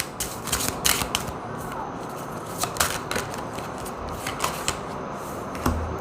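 A deck of tarot cards shuffled by hand, a steady run of soft riffling and flicking with sharper snaps now and then, close and fairly quiet, with no one speaking.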